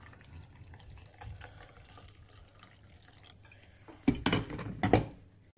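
Freshly brewed coffee is poured into a cup, with two short bursts of splashing liquid near the end after quiet, faint kitchen handling sounds.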